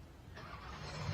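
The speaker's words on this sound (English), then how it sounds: "Such a variety of different engine notes as they come to life here in this big field." A race car engine fires up partway through and settles into a rising, rough idle, with low rumbling from other race car engines in a large field running underneath.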